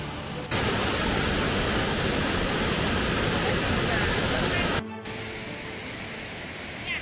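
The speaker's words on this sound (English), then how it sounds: "Soon we arrived at the impressive waterfall, which is a fish sanctuary." Loud, steady broadband rush of a rainforest waterfall spilling into a deep fish sanctuary pool, constant and close, with a brief dropout before the roar resumes slightly softer.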